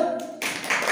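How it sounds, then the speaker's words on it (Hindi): Classroom students clapping briefly for a classmate during a maths lesson, a short burst of hand claps that starts after a fraction of a second of quiet room sound, close and moderately loud. "तालियां बजाओ।"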